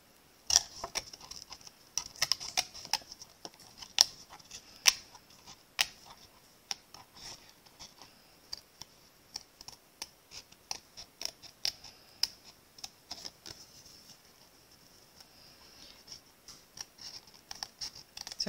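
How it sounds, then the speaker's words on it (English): Small paper snips cut through card stock for a handmade card in quick, irregular crisp clicks and cuts, close up, with short pauses between bursts and no talking. "now I'm going to use my paper snips to cut out the center of this truck"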